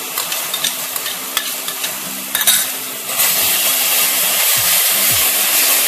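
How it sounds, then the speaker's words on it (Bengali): Spice paste for a Bengali prawn curry fries in a pan with sour yogurt, a close, loud, continuous hiss that jumps to a stronger sizzle around the yogurt's arrival, with scattered stirring scrapes. "মশলা ভালোভাবে ফ্রাই করে নিতে হবে।"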